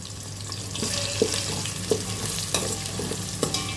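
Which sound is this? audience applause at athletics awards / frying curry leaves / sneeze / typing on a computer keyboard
frying curry leaves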